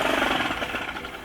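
An ATV engine buzzes steadily up close on a beach test ride, a rough, continuous mechanical drone with no talk over it.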